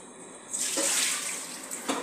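Water poured from a tap into an ordinary cooking pot, a close splashing rush that starts abruptly after a quiet moment and runs steadily to the end, with a brief surge near the finish.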